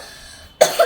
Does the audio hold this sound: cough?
yes